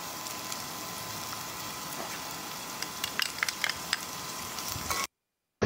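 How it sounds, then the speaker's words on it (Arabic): Onion frying in a pot for haneeth, a steady soft sizzle with faint crackles and light stirring clicks, ending in a short silent gap before the sizzle resumes. "بيحمس الحين البصل لين يشوقر"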